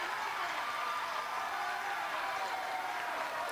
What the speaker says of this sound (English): Home crowd getting rowdy here, cheering as the Knights able to force a turnover.